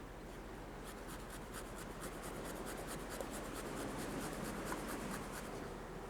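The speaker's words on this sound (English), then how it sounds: "Grate a little bit of carrot on there." A carrot being grated at an outdoor beach campsite, a continuous fine scraping rasp that runs steadily without breaks, close but fairly quiet.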